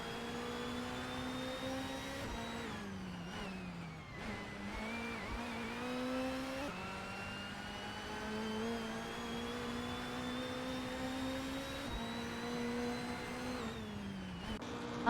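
A Peugeot BTCC touring car pulls out of the pit lane at Snetterton, its engine droning steadily with brief pitch dips at each gear change, continuous and fairly close, with no talking.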